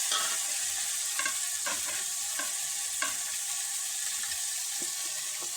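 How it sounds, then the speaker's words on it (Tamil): Chicken curry with homemade chili powder being stirred in a hot pan: a steady close sizzle runs throughout, broken by repeated scraping strokes of the spoon at an irregular rhythm, with no talking. "நல்லா கிண்டிக்கலாம்"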